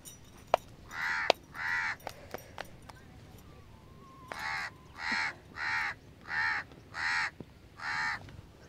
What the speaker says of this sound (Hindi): कौवा जो है वो भी मुसलसल बोल रहा है